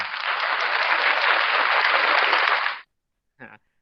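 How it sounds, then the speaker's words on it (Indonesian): A short burst of clapping for a student named Nuno in a virtual Indonesian language class, a bright, even wash of applause lasting under three seconds and stopping abruptly, followed by a brief faint blip. "Kita tepuk tangan untuk Ananda Nuno."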